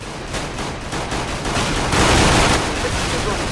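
Rapid, dense gunfire from a Counter-Strike match rattles continuously and loud for several seconds, swelling midway, with a voice faintly present in the mix.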